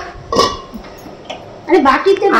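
A lid clatters onto a pot of cooked dal with a few metallic clinks and scrapes, close and fairly loud, with a louder rattle toward the end; a voice speaks briefly in between.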